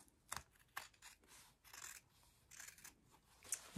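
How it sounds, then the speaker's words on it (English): Scissors trim the fabric of a pouch window up close, giving a series of quiet, crisp snips and soft rubbing cuts over a few seconds. "I'm just going to trim that and trim this over here."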